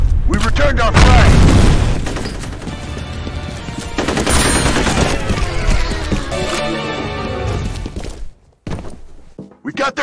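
In the online shooter F.E.A.R. Combat, a loud, booming grenade blast and heavy bursts of close gunfire in a capture-the-flag match, with shouting voices over the chaos before things briefly drop off.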